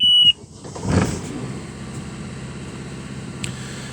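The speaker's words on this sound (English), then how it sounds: "press and hold the top right button to start the engine" A Volvo Penta marine diesel engine on a boat starts: a short beep cuts off, the starter cranks briefly, and then the engine catches and settles into a steady low idle, with a faint tick near the end.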